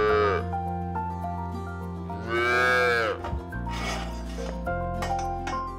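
Calves and cows on a dairy farm moo in a run of loud, drawn-out bellows, several calls overlapping close by with a rasping undertone and no talk.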